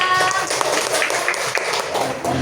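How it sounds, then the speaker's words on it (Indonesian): Students clapping in a classroom for the second group after a presentation, a brief burst of scattered hand claps, moderately loud, over a murmur of voices. "Beri tepuk tangan buat kelompok kedua"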